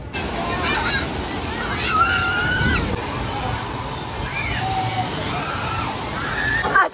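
Water splashing and sloshing on the Popeye water ride at a Universal theme park, a steady wash of moving water with excited voices and shrieks over it.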